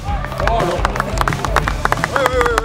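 A crowd claps and cheers for former Paris Saint-Germain footballer Jérôme Rothen at a live football event, a steady burst of applause under an announcer's voice.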